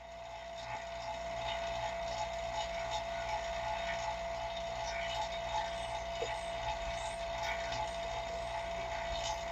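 A vacuum chamber pump running while degassing a small batch of mixed resin for a crystal mold, a loud steady mechanical drone with a constant tone and faint rattling, alone without talk.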